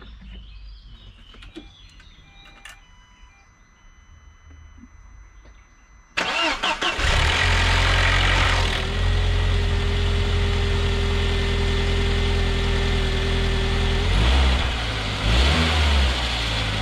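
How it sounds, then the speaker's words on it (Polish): A worn timing chain in an Audi 1.8 Turbo engine: after a quiet start, the engine fires up at about six seconds, then runs loud and steady close by, with a few rev changes near the end. "wy sobie posłuchajcie, jak pracuje, jak objawia się już wyeksploatowany rozrząd łańcuchowy"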